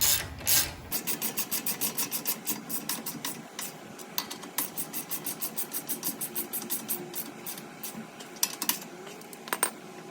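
A 21mm socket on a ratchet tightening tie rod nuts on a Jeep Wrangler JK, a fast run of sharp metallic clicks in steady rhythm, close and clear, with a few louder clacks near the end.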